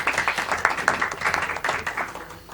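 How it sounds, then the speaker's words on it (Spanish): Applause at a committee session: a small group claps steadily for a couple of seconds, dense and close, with faint murmuring underneath. "Luego aplauso."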